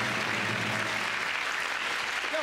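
Studio audience at a televised music show breaks into steady, sustained applause, a dense wash of clapping that holds at an even level with no talk over it.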